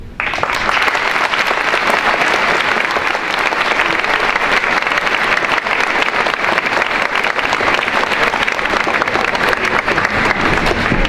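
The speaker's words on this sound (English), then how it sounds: "Let's give them another round of applause." A school Veteran's Day program audience claps loudly for competition winners, dense applause that starts abruptly and holds steady for the whole stretch.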